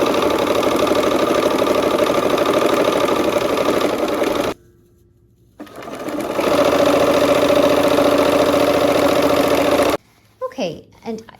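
Sewing machine stitching quilt block strips, a loud close whirring hum running steadily, pausing briefly, then resuming before stopping, followed by faint handling sounds.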